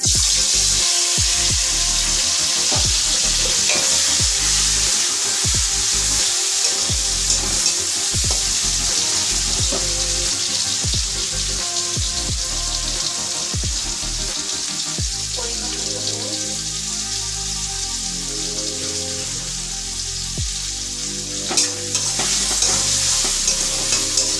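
Nigella seeds, onion and tomato fry in a pan for a fish kalia, a constant close sizzle with scraping stirs and occasional clatter, running alone without talk.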